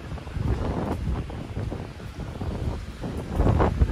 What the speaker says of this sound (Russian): Сегодня, мне кажется, даже сильнее ветер